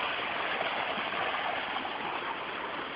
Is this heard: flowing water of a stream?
yes